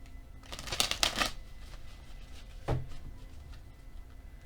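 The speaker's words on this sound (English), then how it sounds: "Let's get the fortune cards." Fortune cards being shuffled by hand, a quick rippling riffle burst followed by a single soft tap as the deck settles, close and quiet.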